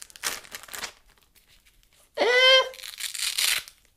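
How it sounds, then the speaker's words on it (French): Packaging for a Sena 10S motorcycle intercom is unwrapped, with a few short crinkling bursts of plastic or paper and a sharper tearing rustle, separated by quiet gaps. "On est là pour tout déballer de toute façon."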